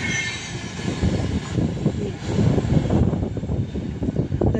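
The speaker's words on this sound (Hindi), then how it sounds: "इतना स्पीड में ट्रेन हमारे स्टेशन से जाती है। एक्सप्रेस ट्रेन है, यहाँ रुकेगी नहीं है।" An express train races through a railway station without stopping, a loud rumbling clatter of wheels and carriages rolling past close by, with a faint whine on top, in a continuous rush that swells as it goes by.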